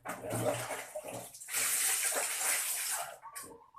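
Water gushes and splashes while a school toilet room is washed down, a close, strong wash that swells in the middle and cuts off near the end.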